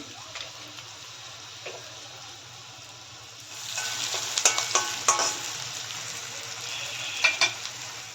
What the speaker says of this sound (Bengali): পেঁয়াজটাকে আমার ডাউন করে ভাজতে হবে